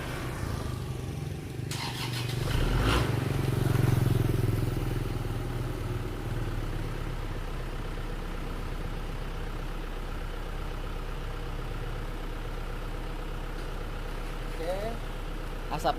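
A diesel car engine, freshly repaired with new liners, pistons and piston rings after overheating from lost radiator water, cranks and catches, then settles into a steady low idle with faint clatter while a person talks nearby.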